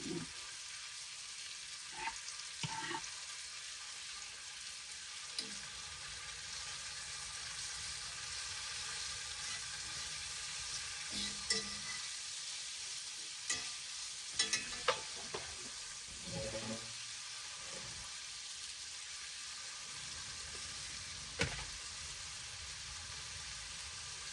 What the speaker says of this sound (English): them jalapenos look so good, and you can hear them sizzling in there